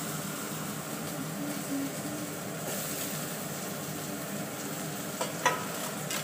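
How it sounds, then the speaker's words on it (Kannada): Spices and ginger-garlic paste fried in oil in a pan while making radish paratha, a steady low sizzle with light stirring scrapes and a couple of small clinks near the end. "ಬೆಂಗು ಹಾಕಿ ಸಿಟ್ಟಿಟ್ಟು ಫ್ರೈ ಮಾಡಿಬಿಡೋದು"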